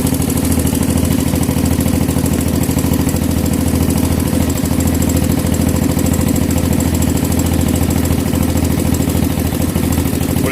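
A Honda ATC 200X three-wheeler with a swapped 1984 200S engine idles after a cold start, a loud, close, steady single-cylinder putter that holds an even rhythm throughout.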